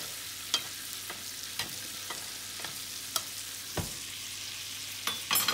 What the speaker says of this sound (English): give it a quick baste, put it back in